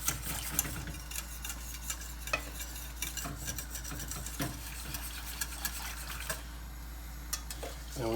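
Butter chicken ingredients are stirred together in a bowl, giving soft, repeated scraping and ticking strokes at a steady pace over a low background hum.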